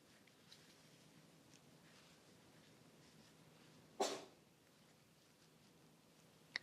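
A single short sneeze, apparently from a pet dog with a cold, bursts out once amid quiet room tone.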